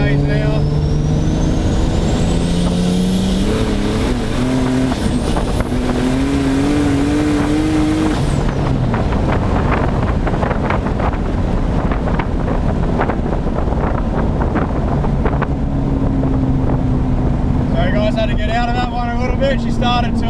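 A car engine roars at high revs in fourth gear at 80 km/h, pitch climbing and dropping with gear changes, under heavy wind buffeting; a voice speaks briefly over it.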